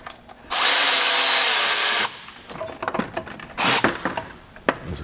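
Power tool zipping out bolts during an automotive AC system repair: a loud sustained whir of about a second and a half, then scattered clinks and handling noise, with a second short burst near the end.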